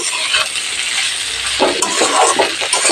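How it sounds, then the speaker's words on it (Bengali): A spoon stirs a potato and boiled pea mixture in a hot pan, with a steady sizzle and a run of close scraping strokes in the second half, and no one speaking. "সব একসাথে মিক্স করে নিচ্ছি"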